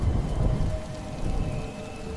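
Heavy rain pours in a forest storm with deep rumbles of thunder, a dense, continuous downpour with low rolling swells and no voices.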